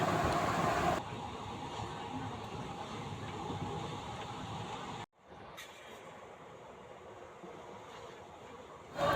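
Soft, continuous rumbling hiss inside a train heading toward Bandel Junction, fairly faint, with a sudden drop partway before the steady noise resumes.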